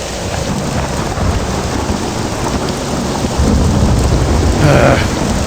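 Steady heavy rain pours throughout a video game thunderstorm, with a deep rumble of thunder swelling toward the end.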